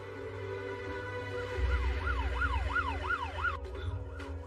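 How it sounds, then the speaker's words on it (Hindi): Ambulance siren wailing in a repeated rising-falling pattern, mistaken for a police car, heard at moderate distance over a low rumbling background; about six cycles before it fades, with no talk. "ये तो पुलिस का सायरन है।"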